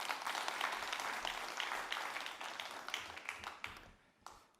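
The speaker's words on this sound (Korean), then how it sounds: "우리 목사님 큰 박수로 환영하시겠습니다." A church congregation gives a warm round of applause to welcome the pastor at a Sunday service, dense clapping filling the space at moderate level before thinning out and fading near the end.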